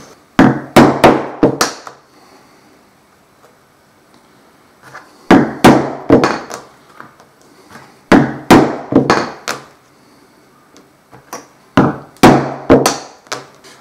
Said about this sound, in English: Now what I'm going to do is use a hole punch.